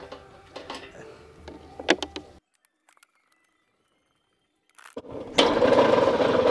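A homemade mini front loader built on an XL bike has its motorcycle engine started: scattered mechanical clicks and knocks, a near-silent pause, then the engine catches and runs with a loud, steady close-up drone.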